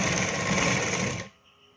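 An electric sewing machine stitches blouse fabric, running close and steady in a fast, even buzz for just over a second before stopping abruptly, with no talk over it.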